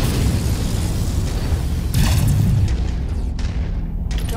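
A destroyed target explodes in the mech combat game MechWarrior 5, a loud rumbling boom that rolls on for seconds with crackling bursts as the blast dies away.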